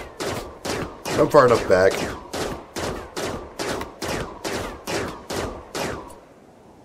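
Rapid pistol gunfire in the Rimworld video game during a Scyther attack: a steady string of about a dozen sharp, evenly spaced shots, loud and close, with a brief spoken line partway through.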